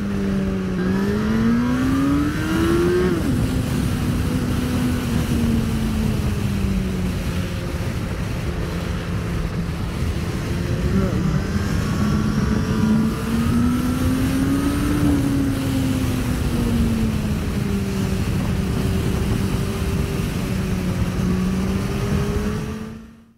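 Motorcycles ride fast along roads, one engine droning loudly and continuously, its pitch rising and falling with throttle and gear changes, under heavy wind rush.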